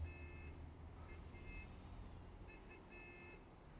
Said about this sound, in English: I don't know why your alarm's going off.